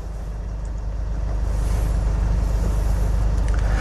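A truck or similar heavy vehicle passes nearby on a road beside a driving-test parking course, a steady loud low engine rumble swelling slightly as it goes by, with no talking.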